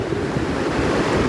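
Ocean waves wash steadily onto a California beach on a cold day, a continuous close roar of surf mixed with wind buffeting the microphone.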